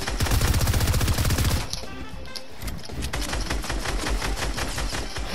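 Rapid automatic gunfire in the video game Warzone, a loud dense burst of shots, then a short pause and more steady firing, close and continuous.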